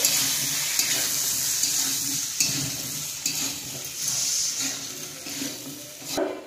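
Cumin and ginger fried in oil in a pan for shukto, giving a continuous bright sizzle with occasional stirring scrapes. The sound is close and fairly loud, with no talking.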